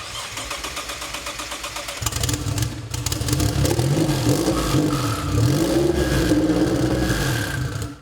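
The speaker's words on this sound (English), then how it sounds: "the car was able to start and idle properly for the first time" Nissan VR38 V6 engine swapped into an R34 Skyline GT-R, starting and settling into a steady idle, loud and close, with a rough mechanical rumble and some fluctuating revs throughout.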